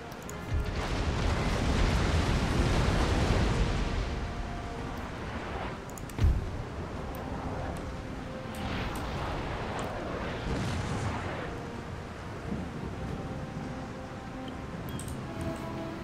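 Warship cannons fire a broadside in the Empire Total War naval game, a heavy rumbling roar of overlapping booms that fades into a low, rolling din with a few scattered later thumps.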